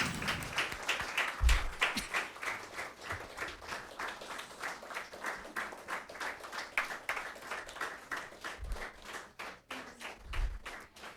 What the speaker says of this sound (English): Please have a round of applause for all these participants.